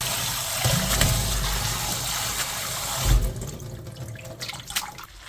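Cold tap water runs into a sink to rinse blanched spinach, a steady splashing stream that briefly surges near the middle, then thins into lighter trickles and drips.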